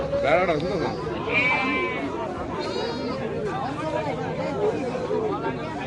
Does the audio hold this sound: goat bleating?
yes